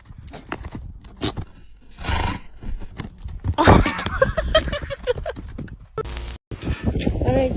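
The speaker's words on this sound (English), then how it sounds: "Angry horsey." A horse whinnies and snorts, the neighing coming in loud, broken bursts with some hoof movement nearby and brief human sounds mixed in.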